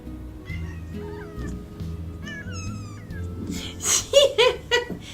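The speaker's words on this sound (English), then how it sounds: "I get to squish the kitty, and she doesn't like it" An unhappy cat being squeezed meows and yowls several times near the end, loud and close, with some muffled handling noise and a brief vocal sound earlier.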